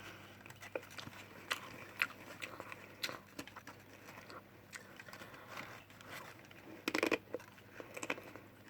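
Crisp snack chips are crunched while eating: close, quiet mouth crunches and bites come in irregular clusters, with a denser burst of crackly chewing near the end and no speech.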